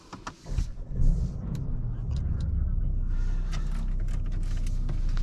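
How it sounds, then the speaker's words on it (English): A 2023 Mercedes-AMG CLA 35 coupe accelerates, heard from inside the cabin as a loud engine rumble that builds and then holds steady and strong, after a few brief clunks at the start. "Let's give the car some power."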